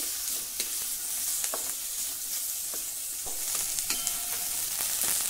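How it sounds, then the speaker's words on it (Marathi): Onion roasting in a little oil in a pan with green chillies, stirred steadily: a continuous close sizzle broken by scraping strokes of the spoon, with no talking. "यामध्ये थोडं तेल घालणार आहे आणि थोड्या तेलावर आपल्याला हे भाजून घ्यायचं आहे"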